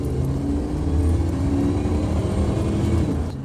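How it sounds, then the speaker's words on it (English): A car accelerating at full throttle and climbing through its rev range, the engine droning loud and steady close by, with no talk over it. "you really should accelerate full throttle and run the vehicle through a full rev range"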